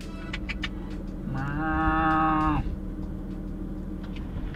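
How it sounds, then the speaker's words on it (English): A single long, low moo from a cow nearby, rising slightly and lasting about a second and a half amid faint outdoor background noise. "Cow crossing."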